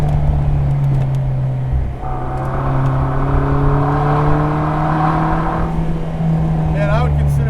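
Vanderhall Laguna engine held at full throttle, a steady droning hum with rising harmonic whine in the middle stretch, loud and close, with someone talking over it.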